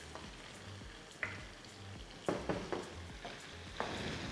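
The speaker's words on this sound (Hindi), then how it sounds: "अब इसकी कर लेनी है चूल्हा तेज करके जबरदस्त भुनाई" Minced meat for dum keema fries on a high flame, a quiet steady sizzle broken by several sharp spatula scrapes and clinks against the pan, the strokes clustering toward the end.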